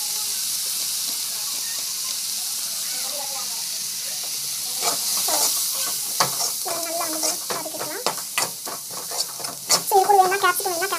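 Biscuit bath masala being stirred and sautéed in a hot pan, a soft steady sizzle with scraping stir strokes that grow busier and louder toward the end, no one speaking.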